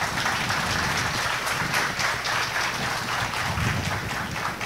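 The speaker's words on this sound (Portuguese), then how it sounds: "Então eu gostaria de uma salva de palmas para todo o pessoal do GDG daqui." Sustained applause from a large audience at a tech conference, with dense overlapping hand claps holding steady and loud throughout, without pauses.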